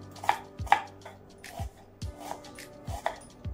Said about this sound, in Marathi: तर कांदा एकदम असा बारीक कट करायचा आहे आपल्याला इथं